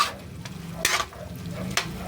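A simmering ginger dish is stirred in a pan, with soft bubbling and sizzling under a few sharper scraping strokes of the utensil against the pan at irregular intervals.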